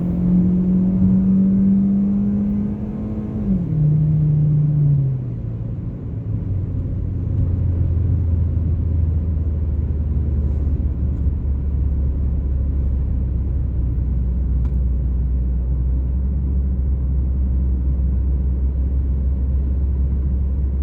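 A Ford Focus ST engine revs up toward 6,500 RPM, a loud rising drone that climbs and then settles into a deep steady rumble over a long stretch, without talking.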